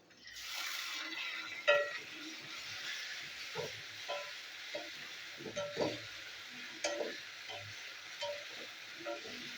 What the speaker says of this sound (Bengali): তো এটা আমি পেঁয়াজের সাথে ভেজে নেবো।